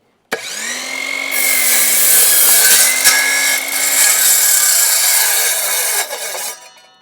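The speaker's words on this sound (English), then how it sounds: "But this little saw has been wonderful, man." Small cordless power saw cutting a wooden block at an off-grid site, starting abruptly in a loud, close, continuous whine that holds through the cut, dips briefly, then winds down at the end.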